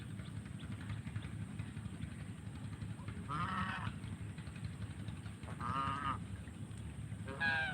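Geese honk outdoors on a morning in Dhaka, three short separate calls over a low steady background hum, moderately distant.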